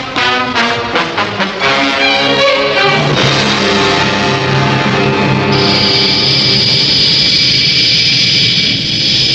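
Aircraft engines run inside a hangar with a loud, continuous roar and whine. A rising high-pitched tone joins partway through, and rapid pulsing can be heard at the start.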